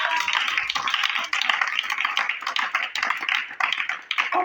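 A church congregation claps in a steady, brisk rhythm, close and continuous, with no voices clearly standing out.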